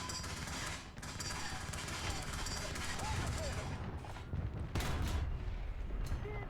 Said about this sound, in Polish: Od dolnej płyty drugi strzał się odbił.